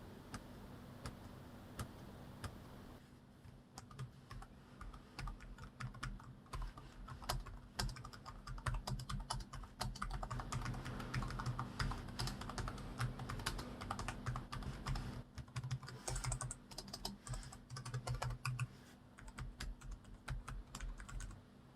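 Rapid, quiet clicking of typing on a Cougar Vantar AX scissor-switch membrane keyboard, close and continuous with a soft, even patter of keystrokes and no speech.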